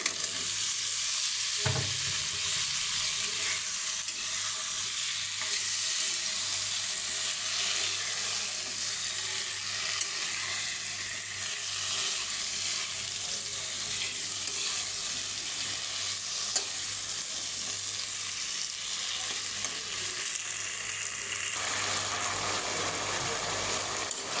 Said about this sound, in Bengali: মশলাটা কষানো হয়ে গেছে, এখন দিয়ে দেব কেটে রাখা আলু।